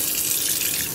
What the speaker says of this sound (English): I'm going to run a little water.